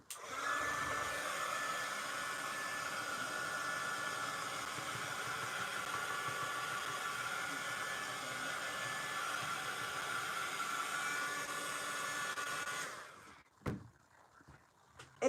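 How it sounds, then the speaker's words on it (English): A handheld heat tool blows hot air over a journal page, a steady loud whooshing roar that runs unbroken for about thirteen seconds, then cuts off and leaves a few faint clicks and handling noises. "I'm gonna get my heat tool and blow it a little bit."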